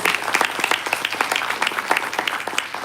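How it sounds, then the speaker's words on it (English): Audience applause at a candidate forum for lieutenant governor, a steady stretch of many hands clapping in a room, fairly close and even throughout with no talk over it. "let's give them a round of applause"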